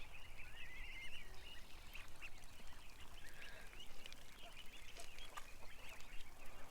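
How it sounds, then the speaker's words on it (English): Many ducks quack and murmur continuously in a low, distant chorus over steady outdoor background noise. "Oh man, the ducks are really chilling here."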